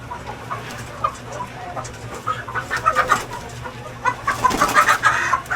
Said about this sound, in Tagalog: Kaya mga manok nila dito.